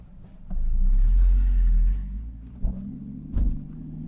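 A Porsche Boxster 981 with an FVD Stage 1 tune drives off, its engine giving a short deep rumble as it accelerates, then settling into quieter running with a couple of brief bumps, fairly close and with no speech.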